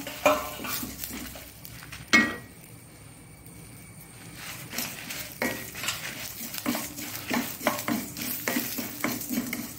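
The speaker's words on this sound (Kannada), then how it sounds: "ಸ್ವಲ್ಪ ಘಮ ಬರುವವರೆಗೆ ಹುರಿದುಕೊಳ್ಳೋಣ" Coriander seeds, fenugreek and cumin dry-roasting in a pan for Mangalorean sorekai sambar, with a steady scratchy stir of a spoon against the metal, a sharp clink near the start and rhythmic scraping later, close and without speech.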